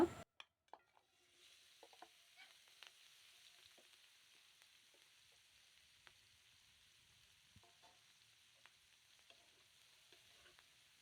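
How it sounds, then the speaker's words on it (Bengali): Onions and dried chillies frying in hilsa fish oil, a faint, even sizzle with scattered small pops and light stirring ticks after a few sharp knocks at the start; quiet and continuous, no speech. "এখন এই মাছের তেলের মধ্যেই এই পেঁয়াজগুলো ভেজে নেব"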